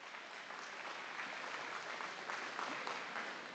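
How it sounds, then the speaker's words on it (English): An audience at a state fair sheep showmanship contest claps for the showmen, a dense, even wash of applause that holds steady, heard from a little distance without voices. "Let's give them a round of applause before we start here"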